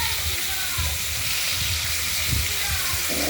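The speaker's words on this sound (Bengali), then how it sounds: "তেলাপিয়া মাছগুলো কেটে কড়াইতে ভেজে নেবো লাল করে ভেজে নেবো" Cut tilapia pieces fry red in hot oil in a wok, giving a constant close sizzle and hiss with soft bubbling, while someone talks over it.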